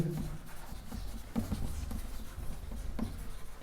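Marker or chalk writing on a board while equations are worked out, soft scratchy strokes and light taps close by over a steady low background hum, no clear talking.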